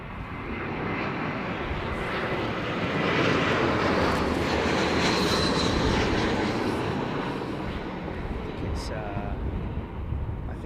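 An airliner comes in to land at London Heathrow Airport in windy, head-on conditions, its broad engine roar holding steady for about ten seconds and swelling slightly mid-pass, with wind noise mixed in and no speech.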